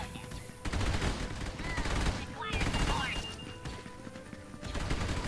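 Rapid enemy gunfire bursts in a Clone Wars VR video game, a dense crackle of shots running through the whole stretch, loud and near.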